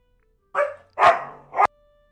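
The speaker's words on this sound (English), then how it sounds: "Sorry if you guys just heard my dogs going crazy." Dogs barking indoors: three loud, sharp barks in quick succession, with nothing else around them.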